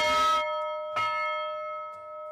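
A train bell rings twice, each strike bright and metallic with a long, steady ringing tail that fades slowly; no voices.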